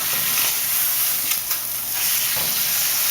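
Steaks searing in a hot pan give off a steady, loud sizzle and hiss, with a few brief pops and surges of frying noise and no talking.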